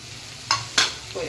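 Onions drop into a hot pan for taro leaf mash, three quick sharp sizzling bursts, close and loud over a low background hum.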